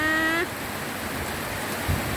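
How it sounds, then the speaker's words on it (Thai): Rain falling steadily on an elephant bathing in a downpour, a dense even hiss of drops that continues alone after a brief tonal sound fades at the start. "มาอยู่กับสายฝนอีกแล้วนะคะ"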